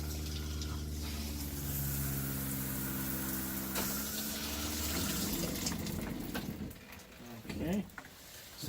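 Water running from an RV tap and shower head during winterizing, a continuous rushing hiss with a pump-like hum beneath, easing off near the end; a person talks over it.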